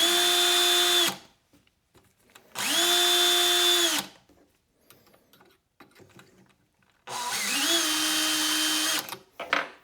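A power case trimmer trims rifle brass cases in three loud motor bursts of about a second and a half each, with steady whining tone and short quiet gaps between.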